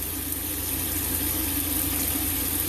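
Water flushes steadily through a sink drain line while a plumbing system is being winterized and the flow is waited on until it runs pink; a faint, even rush continues throughout with no voices.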